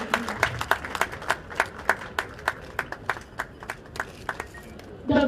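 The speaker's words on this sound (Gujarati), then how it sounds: "આપણે સૌ જોરદાર તાળીઓના ગણગડાટ સાથે એમનું અભિવાદન કરીએ" Audience applause at an outdoor Republic Day district celebration in Vapi, a distant, thin clapping with steady, evenly spaced claps rising slightly at the end.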